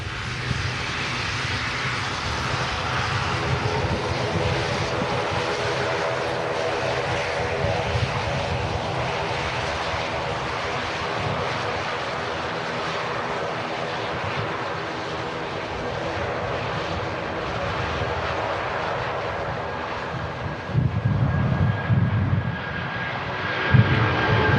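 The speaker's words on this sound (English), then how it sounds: "And there we go, 330 on the roll." An Airbus A330 jet on its takeoff roll at Manchester Airport on a windy day: a loud, steady engine roar with whine, sustained throughout and heard from nearby, with wind buffeting toward the end.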